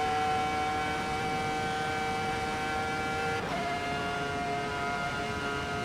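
A Ferrari F2004 F1 car in Assetto Corsa EVO screams at high steady revs with a sustained tonal engine whine that shifts pitch briefly midway, as on an upshift, then holds on.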